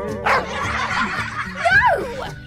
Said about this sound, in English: But it's just a small dog.